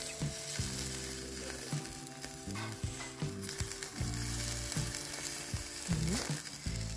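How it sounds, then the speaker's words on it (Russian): Steady, loud sizzling of shashlik meat grilling over an open fire, with crackles and pops running throughout and no voices. "Как на огне у нас хорошо жарится."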